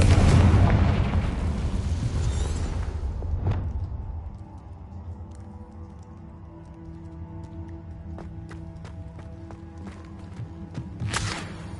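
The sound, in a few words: Confringo spell explosions, from video game Hogwarts Legacy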